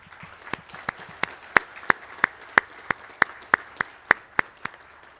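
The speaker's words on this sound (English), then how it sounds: "So I would like to first give her a round of applause for everything she does." Slow, evenly spaced claps ring out one at a time, about sixteen sharp strikes at a school committee meeting for a librarian, sparse and clear against a quiet room.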